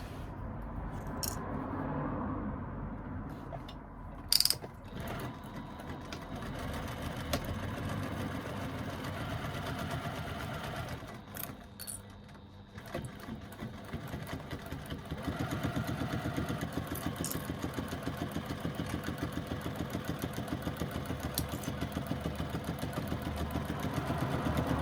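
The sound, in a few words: sewing machine stitching a seam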